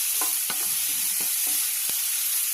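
Thinly sliced onion, chopped green chili and curry leaves fry in oil for an okra stir-fry, giving a constant loud sizzle with several crisp spatula scrapes and taps against the pan. No one speaks.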